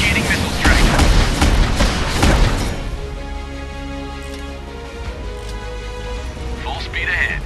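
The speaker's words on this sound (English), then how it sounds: "Initiating missile strike." A missile strike fires from a warship in the naval combat game Warships Mobile 2, a loud burst of booming launch blasts up front that fades into a low rumbling drone, with a voice talking over it.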